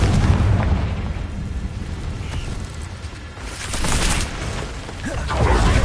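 Fiery Confringo explosive spell cast in the Hogwarts Legacy video game, booming blasts bursting through a dense, continuous roar of battle noise.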